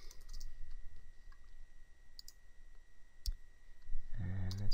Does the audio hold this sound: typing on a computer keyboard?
yes